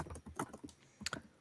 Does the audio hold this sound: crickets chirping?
no